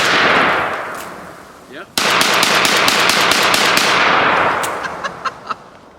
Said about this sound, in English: I'm gonna shoot that bottle for sure.